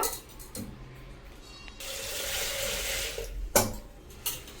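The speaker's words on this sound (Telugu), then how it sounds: "1-2 సార్లు శుభ్రంగా పప్పు కడిగిద్దాము." Toor dal lentils are rinsed in a kitchen under running tap water, with a steady rush of water lasting a couple of seconds, framed by brief clinks and splashes, nearby and without talk.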